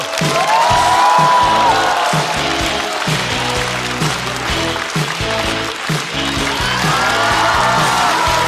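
Studio audience at a Chinese stand-up comedy show claps and cheers to welcome a comedian onto the stage, a sustained loud wash of applause with music playing underneath throughout.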